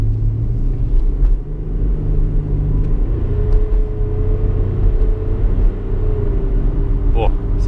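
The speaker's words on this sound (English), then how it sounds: "My car is pretty loyal. Doesn't accelerate too quick" An ordinary car pulls away slowly, a low engine rumble with a gently rising tone, close and steady, with a voice talking over part of it.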